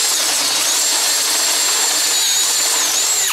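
Harbor Freight drill with a half inch chuck boring mounting holes, a steady loud high-pitched whine running continuously throughout with slight pitch wavers, no talking.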